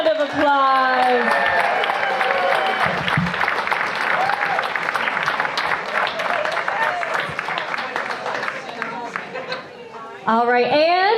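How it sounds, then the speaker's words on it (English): An audience at a dance competition breaks into loud, sustained applause with a few whoops mixed in. A voice is heard briefly at the start and end. "Another round of applause."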